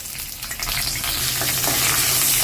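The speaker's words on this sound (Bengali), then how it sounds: "সামান্য পরিমাণ হিং প্রথমে তেলে যাচ্ছে" Asafoetida and spices fry in hot oil for a vegetarian jackfruit curry, a continuous close crackling sizzle that swells slightly louder after the first half second.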